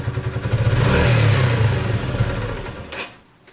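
Motorcycle engine fitted with a CG-type performance carburettor, revving hard at full throttle with a loud, steady roar for about three seconds before dropping away, close to the microphone.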